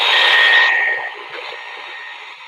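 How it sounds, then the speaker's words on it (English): Ghost box radio scanning through white noise, a loud steady hiss with a bright whine that drops off after about a second, then continues at a lower level with faint blips. "It just scans white noise."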